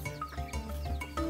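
Goats bleat several times in short, wavering cries, close by and fairly clear, with a little farmyard shuffling around them.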